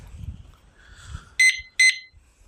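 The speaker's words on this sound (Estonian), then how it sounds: "kuulisite taskus sellist piiksu" Two short, bright electronic beeps from a phone carried in a pocket, signalling arrival at a rogaining checkpoint, each about a quarter second long, with footsteps and faint rustling beneath.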